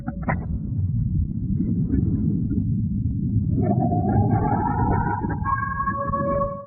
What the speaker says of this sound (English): Now even the Russians know what an air raid siren sounds like.